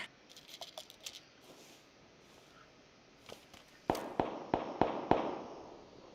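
Gunfire in the video game PUBG Battlegrounds: a few faint distant shots early on, then a rapid series of six or so sharp, louder cracks in quick succession, with no talk.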